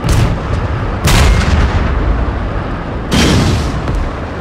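Panther tanks firing their main guns in a wartime battle: a steady, heavy rumble of combat underlies two loud cannon blasts with explosions, about two seconds apart. No voices are heard.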